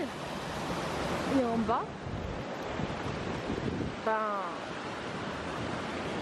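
Waterfall in a snowy winter landscape beside a trail, a steady broadband roar of falling water filling the background throughout, with a person speaking briefly over it.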